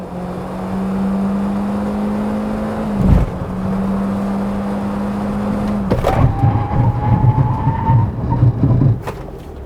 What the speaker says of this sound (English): Now let's check out the braking performance of Hyundai Venue.